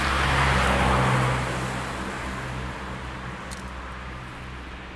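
Cars pass along a road in a broad, loud rush of tyre and engine noise that swells at first and then eases into a steady, fainter traffic roar.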